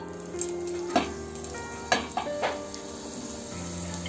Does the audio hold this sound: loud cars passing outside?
no